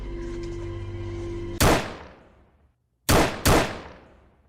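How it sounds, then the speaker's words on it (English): Sharp gunshot sound effects in a TV drama scene: a single loud crack cuts off a steady tone, then after a brief silence two more shots follow close together, each ringing out and fading. "I would if the gunshots just kept coming and it's got faster and faster as they went along"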